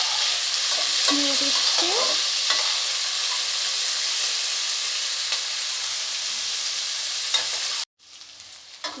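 Food frying and being stirred in a pan for a tender drumstick and sesame dish, with steady sizzling broken by scraping stirs and a brief spoken phrase before it cuts off near the end.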